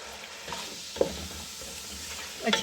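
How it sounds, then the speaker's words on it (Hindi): Spices and crushed coriander for potato pulao frying in a pan make a low, even sizzle with a couple of sharp clinks and stirring scrapes, close up and without talk. "ये हम डाल के और इसको हम भूनेंगे"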